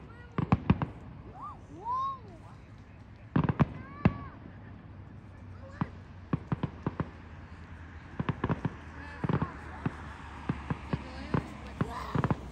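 Canada Day fireworks in Red Deer bursting at a distance, scattered sharp pops and crackling clusters spread irregularly, some whistles rising between them, with people talking and cheering nearby.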